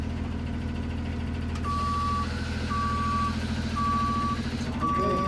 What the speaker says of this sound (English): These are the buses.